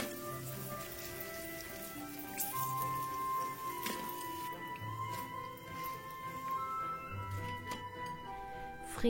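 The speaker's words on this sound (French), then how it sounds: "Frire les patates jusqu'à ce qu'elles deviennent dorées aussi." Potatoes fry in oil with light crackling and irregular drip-like spatters close by, over faint background music.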